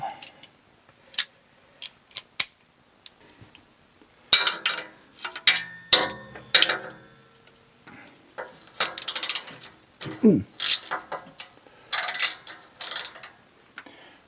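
A hand ratchet on a swivel works oil pan bolts loose under a 2015 Toyota RAV4, giving bursts of rapid clicking with sharp metallic knocks and pauses in between, close and moderately loud.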